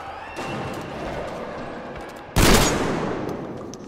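Gunshot in the Metro Exodus video game, a single loud sharp blast cutting through quiet ambient game sound, followed by a lingering rumbling tail.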